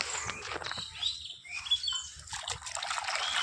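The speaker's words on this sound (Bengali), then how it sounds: "পুকুরের জলে এগুলোকে সুন্দর করে ধুয়ে নেব" Garden vegetables are swished and rinsed in outdoor pond water, giving a soft continuous splashing and trickling with birds chirping nearby.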